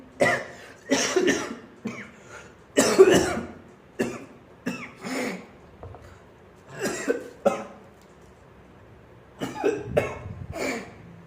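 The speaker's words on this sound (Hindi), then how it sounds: "खांसी अभी भी आती है" Repeated bursts of coughing from a person with COVID-19, some single and some in quick clusters, close to the microphone with short quiet gaps between fits.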